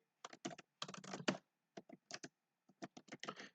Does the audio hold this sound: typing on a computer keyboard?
yes